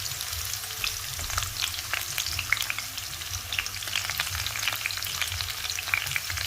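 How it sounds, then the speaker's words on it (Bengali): Chopped onion frying in hot oil, a steady close sizzle with crackling pops and occasional stirring scrapes throughout. "তেলের মধ্যে এখন দিয়ে দিচ্ছি পরিমাণ মতো পেঁয়াজ কুচি।"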